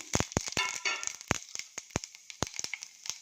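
Tempering spices crackle and pop in heated oil in a home kitchen, with a rapid, irregular series of sharp, close snaps and spits over a faint sizzling hiss.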